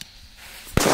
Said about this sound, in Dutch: Echt de beste knallers dit.